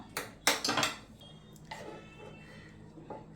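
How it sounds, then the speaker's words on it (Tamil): A metal cooking pot used for a ragi flour dish is lifted off the stove and set down, making a few sharp clanks and rattles close by, followed by softer handling knocks in a quiet kitchen. "இப்போ பாத்திரத்தை நம்ம வெளியே எடுத்து வச்சுக்கலாம்"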